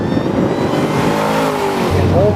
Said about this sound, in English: this thing accelerates so hard out of corners